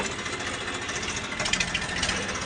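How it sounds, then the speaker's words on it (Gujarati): A village farm tractor idles close by with a steady, knocking low rumble and slight vibration, fairly quiet and continuous throughout. "ટ્રેક્ટર ચાલુ મૂકીને વી આવ્યો હતો"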